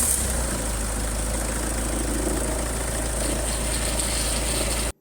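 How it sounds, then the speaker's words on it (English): A Citroën Xsara Picasso engine settles into a steady idle after being started, giving a constant low rumble with a broad hiss on top. It runs close and loud for several seconds, then cuts off abruptly. "we'll start our Xsara Picasso to bleed all the circuits"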